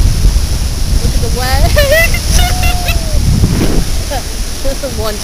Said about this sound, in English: the waves are coming in